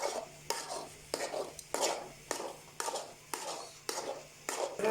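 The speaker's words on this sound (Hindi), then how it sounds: "इसलिए चमचा हमेशा यूँ इसको मुसलसल चलाते रहे।" A spoon stirs thick Chakwal halwa with coconut in a pot, giving a steady rhythm of about eight scraping strokes, each a bright swish repeating roughly every half second, close and clear with no talk.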